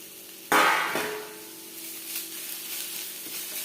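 Chicken fries in a pan with green chili, crushed ginger and garlic, opening with a sharp metallic clang and burst of sizzling that settles into a steady, close frying hiss.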